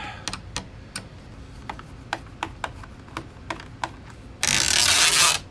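Screws being removed from the case of an HP BY-170003ds printer during teardown: a series of sharp, near ticking clicks of the screwdriver, followed by a brief louder hissing burst near the end.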